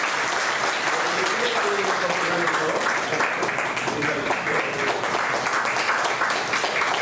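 A gathering at a church New Year ceremony gives sustained loud applause to welcome a pastor. The clapping is dense and continuous throughout, with voices faintly underneath.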